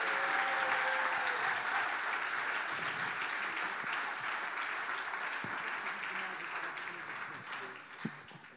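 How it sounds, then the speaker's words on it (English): A crowd at a tribute evening for honorary president Ben Helfgott gives a full, steady round of applause that holds evenly throughout and tapers slightly near the end. "Everybody, please give our honorary president, Ben Helfgott, OBE, a round of applause"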